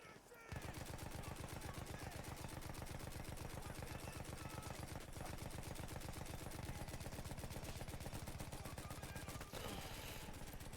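Rapid automatic gunfire rattles in a fast, even rhythm through most of the stretch in Battlefield 1, punctuated by a couple of sharp blasts, loud and close with battlefield din behind.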